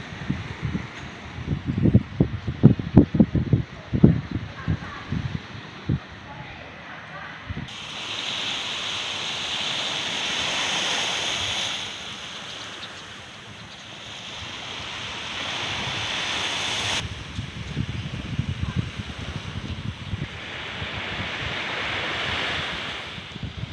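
Ocean surf breaking on a beach on a Malaysia-to-Thailand 4x4 tour, with steady broad wave wash and gusty wind noise on the microphone; several brief bursts of voices and knocks come near the start.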